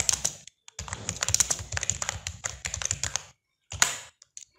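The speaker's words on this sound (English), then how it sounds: "You can type anything, whatever you want." Fast, busy typing of code on a computer keyboard, dense clusters of clacking keystrokes with a short pause, then a few more key taps at the end.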